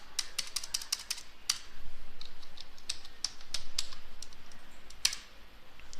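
Steady typing on a computer keyboard, quick irregular clicks in short runs with brief pauses, close and clear over a quiet background.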